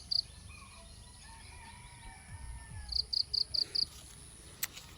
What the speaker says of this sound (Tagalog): Ayan, mayroon pang kuliglig na ano. Mayroon pang kuliglig mga palangga.